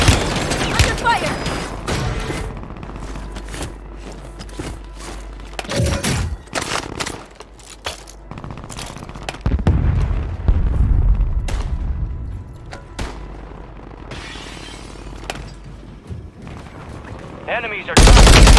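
Gunfire and explosive booms in Warzone 3 on Ashika Island, with bursts and heavy blasts scattered over the stretch amid game voice callouts, ending in a loud close burst.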